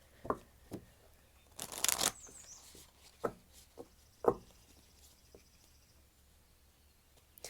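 Moonology oracle cards are shuffled and drawn, a faint sequence of scattered taps and slides with one longer riffling burst near the middle, quiet and close.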